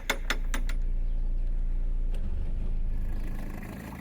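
A low narrowboat engine rumbles steadily, revved back and forward with something caught in the propeller, holding a revved drone before easing off toward the end, with a few clicks and knocks near the start.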